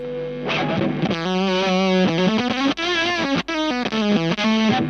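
An electric guitar through a Dazatronyx FFS silicon fuzz pedal, turned all the way up, plays sustained, thick, massively compressed distorted notes and chords, loud and saturated, with short breaks between phrases.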